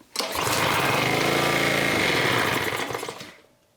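A Honda pressure washer engine, just fixed after a carburetor fuel problem, starts with the fuel and choke on, then runs loud and steady at close range for about three seconds before dying away.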